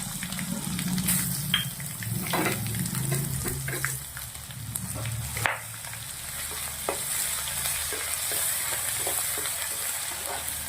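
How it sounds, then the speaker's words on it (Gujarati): Crushed green chilies, garlic and ginger sizzle in hot ghee for a Maharashtrian aloo thecha. A steady close hiss runs throughout, with a few scrapes and clinks of stirring and no voices. "હવે આપણે મરચાં, લસણ ને આદુ વાટેલા નાખી દેવાના છે."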